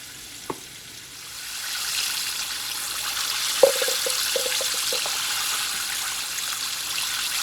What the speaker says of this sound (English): So I'm just gonna go on and finish frying the remaining of my chicken